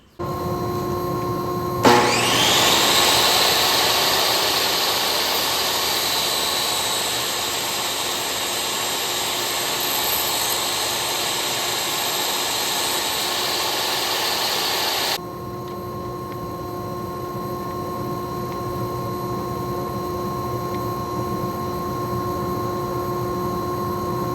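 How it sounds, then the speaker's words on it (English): A table saw spins up sharply and cuts through the wooden rails of a crosscut sled, a loud sustained whining roar lasting about thirteen seconds before dropping off abruptly to a lower idling hum. "So I made that second cut with the blade up higher just to cut the rails."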